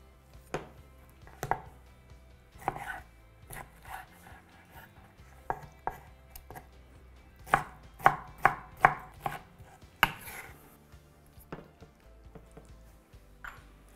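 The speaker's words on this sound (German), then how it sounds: "Kann man nochmal ein kleines Stück schneiden" A knife chops and slices through food on a cutting board while a papaya salad is prepared, giving sharp, close knocks that come spaced out at first, then cluster into a quick run of cuts and taper off to scattered taps.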